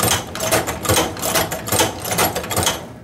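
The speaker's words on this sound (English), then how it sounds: "we'll set the presser foot back down and we'll continue sewing" A hand-operated sewing machine for leather, stitching: a loud, close, rhythmic mechanical clatter of quick repeating strokes, running steadily throughout without pause.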